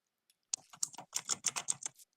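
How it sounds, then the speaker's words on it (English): Rapid typing on a computer keyboard, a quick burst of crisp, closely spaced key clicks lasting under two seconds, close and fairly loud with no voices. "typing intensifies."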